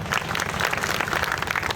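An outdoor crowd claps steadily at the inauguration of a new four-lane road in Bhavnagar, a dense, even patter of many hands at moderate distance that carries on without a break.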